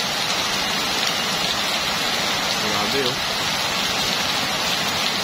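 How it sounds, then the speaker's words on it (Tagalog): Heavy typhoon rain pours as a constant dense roar over a flooding street in Addition Hills, Mandaluyong City. A voice speaks briefly under the hiss. "Grabe, ganito pala dito pag malakas ang ulan."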